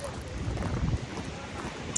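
Wind buffeting a large camper vehicle driving through Iceland's mountains, a low rumbling roar of gusts and road noise while someone talks over it.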